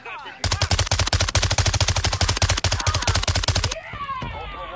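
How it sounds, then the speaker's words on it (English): A shooter video game's automatic weapon fires one long, loud, close burst of rapid evenly spaced shots lasting over three seconds, then stops, leaving a fainter ringing tail. "You are taking effective fire."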